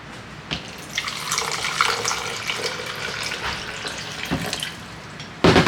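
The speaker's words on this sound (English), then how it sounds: "so I need 8 more ounces of water" Tap water runs steadily into a container for several seconds, a broad rushing pour with a louder burst near the end.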